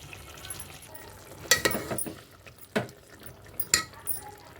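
Ginger garlic masala for chicken curry being mixed in a pan: a faint background sizzle broken by a few distinct close scrapes and knocks of a spoon against the pan, with no talking.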